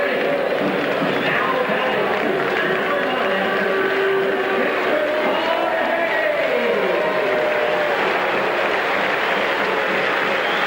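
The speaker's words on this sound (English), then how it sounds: "Check out the crowd reaction now for one Von Hayes." A baseball stadium crowd at an old-timers' game reacts to Von Hayes with a loud, sustained roar and a few whistles that hold steady throughout.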